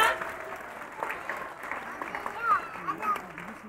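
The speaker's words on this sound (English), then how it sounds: "Let's give him a big round of applause" Applause from an audience at a children's dance recital, scattered and moderately loud, with voices and some shouting mixed in over the clapping.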